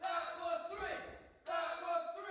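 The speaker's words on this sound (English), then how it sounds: "Crowd chanting, that was 3." A crowd at an amateur wrestling tournament chants in loud rhythmic bursts, with a brief dip into quieter noise midway before the chanting resumes at full volume.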